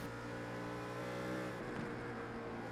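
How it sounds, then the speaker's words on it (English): A GT3 race car engine from the iRacing game at Suzuka holds a steady, high-revving drone, fairly faint, running alone without commentary. "Really pushing the car very hard indeed."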